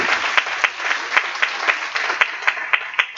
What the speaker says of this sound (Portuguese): vamos aplaudir Jesus pelo quinto tópico que o Espírito Santo trouxe